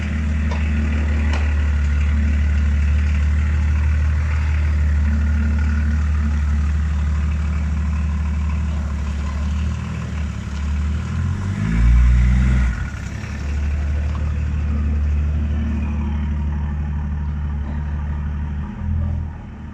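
A Range Rover P38 engine runs steadily with a deep idle, then labours and revs briefly midway as the vehicle reverses up a curb, loud and close, before settling back to a steady drone.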